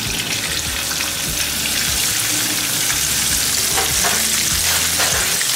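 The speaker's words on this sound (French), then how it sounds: "dans une poêle, il a mis de la tomate concentrée, de la tomate fraîche avec du persil, de la coriandre." Tomato paste, fresh tomato, parsley and coriander fry in a pan with a steady, loud sizzle and scattered stirring knocks, with no voices over it.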